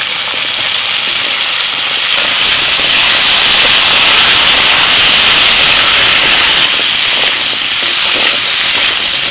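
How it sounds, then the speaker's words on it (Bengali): Malabar spinach stalks, potato and pumpkin sizzle in a pan with salt and turmeric, a loud, steady, close frying hiss that runs unbroken throughout. "পুঁই ডাঁটা, আলু আর কুমড়ো খানিকক্ষণ ভাজার পরেতে"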